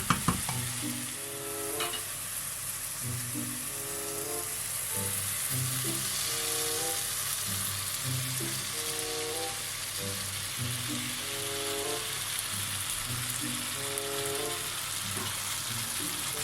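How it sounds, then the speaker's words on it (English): Prawns fry in a hot pan with spicy sambal for a bitter melon dish, a constant close hiss of sizzling oil with occasional utensil stirring and scraping, while faint music plays underneath. "Next, I'm going to put prawn."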